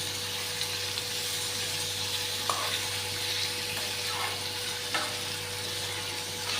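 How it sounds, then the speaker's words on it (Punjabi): Sliced onions fry steadily in hot oil for a bitter gourd curry, a dense continuous sizzle that carries on close and loud throughout, with a few faint clinks of stirring and no talk. "ਉਹ ਪਿਆਜ਼ ਆਪਾਂ ਨੂੰ ਐਡ ਕਰਕੇ ਆਪਾਂ ਇਹਨਾਂ ਨੂੰ ਲਾਲ ਤੇ ਬਣਾਉਂਗੇ ਹੁਣ ਤੱਕ ਪਕਾ ਲਾਂਗੇ"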